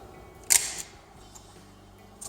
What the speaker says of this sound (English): Load shutter, lower dark slide.